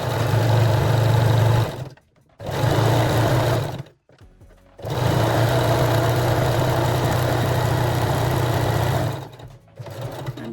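Domestic sewing machine stitching the cups of a lingerie bralette, running in steady loud bursts with short pauses between, including brief back-and-forth passes that lock the seam at the start.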